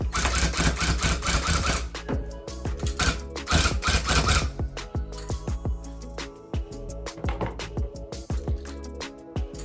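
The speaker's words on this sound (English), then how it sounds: "I will just keep tufting through" A tufting gun punches yarn into a custom rug while lettering it. Rapid, loud mechanical clattering comes in dense bursts for the first few seconds, then gives way to sparser, irregular clicks and thumps close by.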